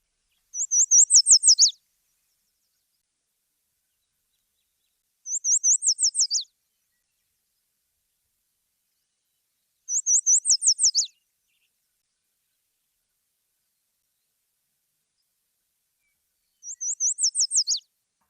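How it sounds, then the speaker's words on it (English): Yellow warbler song: four bright, high, rapid phrases, each about a second long and spaced roughly five seconds apart. Clear and close against a silent background. "yellow warbler is a really hard bird for me to remember their song"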